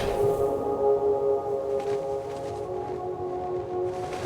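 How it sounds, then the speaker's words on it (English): Choir-like music from the video game Dispatch plays as a hero descends from the heavens, with sustained layered tones at a moderate level and no talking. "So the music is almost choir-like as the chiseled hero descends from the heavens."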